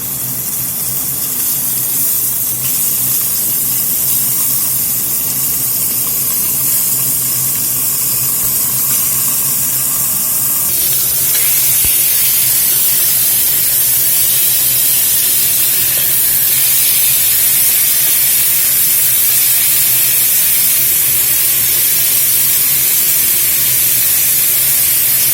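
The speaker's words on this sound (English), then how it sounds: "Go ahead and lay these steaks in." Steaks searing in hot high-smoke-point oil in a pot, a loud continuous hissing sizzle that holds steady for the whole stretch, with a slight shift in texture partway through.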